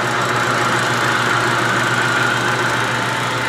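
A machine turns steadily at about 300 RPM while working on a trailer tongue extender, giving a constant close mechanical hum with a fine rhythmic rattle, even and unbroken throughout.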